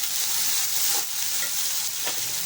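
Dry red chillies and small shallots being sautéed in a pan give a steady close sizzle with occasional stirring scrapes, no talking.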